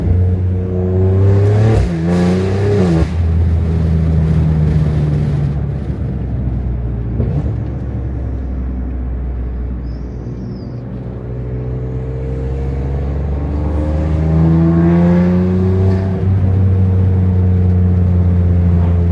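Tuned 600 hp BMW S58 engine in a catless X3M with stock turbo, revving loudly and repeatedly with deep rising and falling growls close by, no talking.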